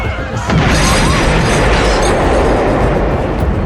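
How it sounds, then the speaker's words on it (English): A loud, sustained rumbling blast roars close and dense, like a huge explosion with crashing debris, filling the whole few seconds, at night during a dance. "a thunderous explosion shatters the night"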